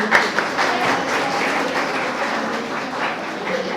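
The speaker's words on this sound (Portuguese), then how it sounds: "Palmas para ela, gente." Steady applause from an audience at a Brazilian student event, clapping for a woman in the crowd, a dense continuous patter lasting several seconds with no one speaking over it.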